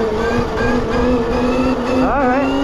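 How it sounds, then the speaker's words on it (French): Sur-Ron Storm Bee electric dirt bike ridden hard on an enduro straight, its loud, close motor whine holding steady and then sweeping sharply upward as it accelerates. "je suis en train de brutaliser un petit peu ta moto"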